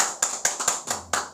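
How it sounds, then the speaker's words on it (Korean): A church congregation at a Sunday service claps in a few sparse, separate bursts, each sharp and distinct, fairly quiet and close with no talking over it. "우리 예배를 받으신 하나님께 영광의 박수 올리겠습니다"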